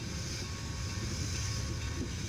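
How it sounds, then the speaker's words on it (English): A Challenger steam locomotive and its train roll slowly across the newly rebuilt Winslow Trestle bridge at a steam-up event, a steady, dense rumble of wheels and rail noise continuing loud and unbroken throughout. "If it can take the tonnage of this Challenger's weight."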